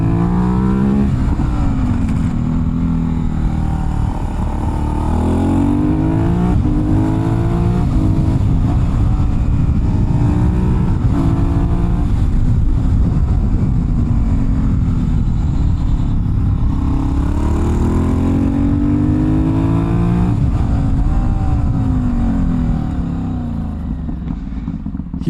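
An Aprilia Dorsoduro 750 V-twin supermoto motorcycle is ridden on wet roads, its engine loud and continuous with repeated rising and falling revs as it accelerates out of corners, heavy wind rush throughout and no talking.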